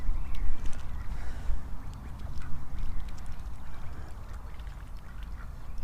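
Ducks paddle and dabble in a small new garden pond with a liner, giving soft quacks and watery splashing close by against a steady low background, with no talk.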